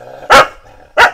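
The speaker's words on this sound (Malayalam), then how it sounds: "ഏ ഓ നായ്ക്കുട്ടികൾ ഉണ്ടല്ലോ." Puppies from a litter of five on a farm give two sharp, loud barks close by, spaced apart with quiet between them.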